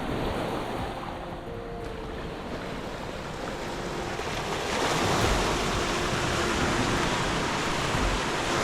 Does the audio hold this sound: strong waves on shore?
yes